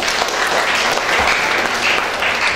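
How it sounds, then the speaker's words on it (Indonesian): Lecture audience at an Indonesian university hall applauds steadily, a dense, even wash of many hands clapping throughout, loud and continuous with no pause. "tepuk tangan buat Indonesia."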